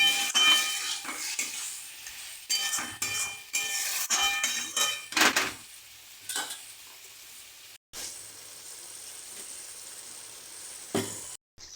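Chicken pieces being slow-fried and stirred in a pan for a Bengali curry, with loud bursts of sizzling and scraping spatula strokes that come and go, then a quieter simmer near the end.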